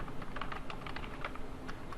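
Quick, even keystrokes on a computer keyboard as a JavaScript statement is entered, a short close run of soft clacks with no talking over them.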